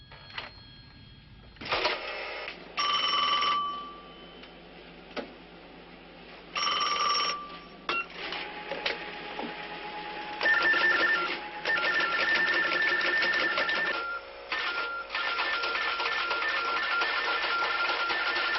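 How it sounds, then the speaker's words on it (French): A 1977 telephone setup wired to a signal lamp and a teleprinter produces repeated bursts of bell-like ringing, then longer stretches of rapid mechanical printer clatter. The sounds come in uneven on-off blocks. "Le téléphone est branché sur une lampe et un téléscripteur."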